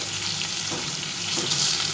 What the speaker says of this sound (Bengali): এই মাছ ভাজাটা হয়ে গেলে তারপরে বেগুন আলুটা ভেজে নেব